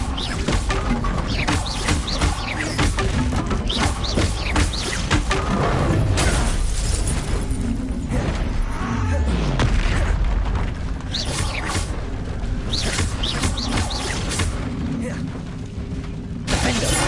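Confringo explosive spell in Hogwarts Legacy amid busy combat: repeated bursts, crashes and shattering blasts pile up over continuous mechanical clatter and game music, loud and dense throughout.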